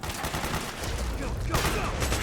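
Heavy, continuous battlefield gunfire from the video game Metal Gear Solid 4, dense overlapping automatic shots filling the whole moment with loud, unbroken intensity.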